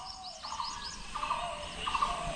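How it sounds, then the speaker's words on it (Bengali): Birds calling in the woods around a forest lodge in the Sutan jungle, with repeated short chirping phrases and a steady higher twitter over a low background hum, moderately distant. "চারপাশে পাখি ডাকছে"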